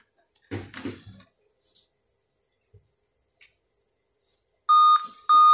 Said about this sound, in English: As you can see, we are still having the beep sound.